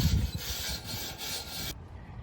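A wire brush scrubs rust from the metal seat of a garden bench where the backrest mounts, making rough, repeated scraping strokes close up before stopping abruptly.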